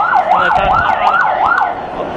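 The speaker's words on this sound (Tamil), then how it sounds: "இப்போ பார்த்தீங்கன்னா மீண்டும் ஒரு ஆம்புலன்ஸ் வருது" A wailing ambulance siren in Karur sweeps up and down in a steady repeating cycle, loud and close throughout, with faint road traffic underneath.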